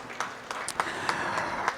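Short, faint burst of audience applause at a parish association's silver jubilee celebration, with scattered distinct claps over a soft, even wash of clapping.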